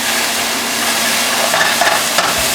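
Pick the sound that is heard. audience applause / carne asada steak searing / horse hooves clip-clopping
carne asada steak searing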